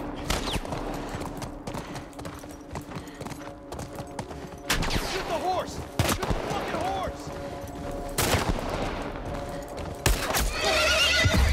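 A horse in The Last of Us video game gallops and whinnies amid bursts of gunfire, hoofbeats pounding steadily with a couple of loud neighs cutting through the chaotic action.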